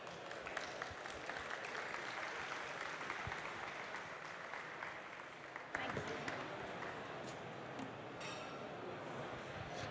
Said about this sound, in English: Please welcome our speakers on the stage with a huge round of applause.